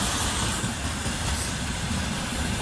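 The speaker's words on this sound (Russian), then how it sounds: "Смотри, какой поезд." A freight train rolls past a town at close range, its loud, steady rumble and rattle of wagons filling the scene without pause.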